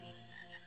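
A frog in Final Fantasy IX, heard as a short, faint, low croak set against quiet game ambience.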